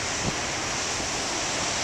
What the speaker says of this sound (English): even from up there the waves are giants